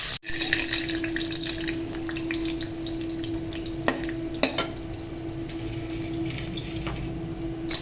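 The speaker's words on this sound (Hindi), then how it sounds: "अब हम इसमें अपनी ये गूंद को फ्राई करेंगे।" Edible gum (gond) fries in ghee in a pan, a bubbling sizzle close by with scattered clicks and scrapes of a spoon stirring.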